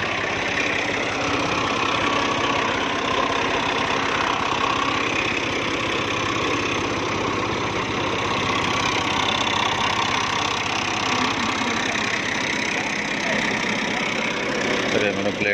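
A tractor engine idles steadily with a low, continuous chugging drone that stays even throughout, while voices talk over it.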